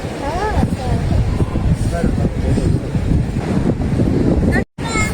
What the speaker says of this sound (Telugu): చల్ల గాలి, అస్సలు ఒక్క 5 minutes కూడా మనం నించోలేం, అంత గాలి ఉంది ఇక్కడ.